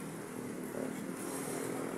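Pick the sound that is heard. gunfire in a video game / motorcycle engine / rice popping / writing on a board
motorcycle engine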